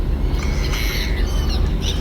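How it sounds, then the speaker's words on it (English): Seagulls squawk loudly at a port in the Tourist Bus Simulator game, with several overlapping harsh calls over a steady background of ambient noise. "the seagulls at the port are way too loud"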